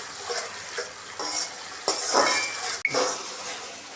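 Spice masala with tomato paste stir-fried in a pan for a pumpkin and pointed gourd posto dish, with close, uneven scraping of a spatula against metal, soft sizzling underneath and one sharp clink near the end.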